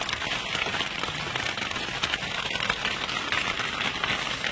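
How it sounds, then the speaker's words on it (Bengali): Heavy rain drums steadily on a large fishing boat, a dense, even hiss that fills the whole stretch without pause, with a faint low engine-like rumble beneath. "তারই মধ্যে বৃষ্টি।"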